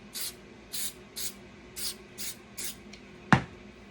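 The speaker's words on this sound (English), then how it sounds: "Okay, so I've spray painted all over my half rounds" Spray paint from an aerosol can is applied to half rounds in six or seven short, evenly spaced hissing bursts, close and fairly quiet, with a single sharp clack near the end.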